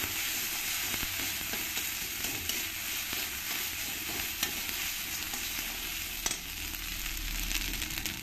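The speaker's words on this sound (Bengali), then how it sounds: "আদা রসুন আর কাঁচা লঙ্কা পেস্ট দিয়ে ভালো করে একটু জিরের সঙ্গে আমি ভেজে নেব মশলাটাকে" A paste of ginger, garlic and green chili fries with cumin in a pan, a dense and continuous close sizzle with faint stirring.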